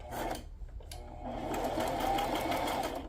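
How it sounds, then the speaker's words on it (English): A sewing machine stitches around a word on fabric, a fast close whirring run that starts, pauses briefly, then continues steadily to the end with no talking. "I'm going to go ahead and sew just right around my word"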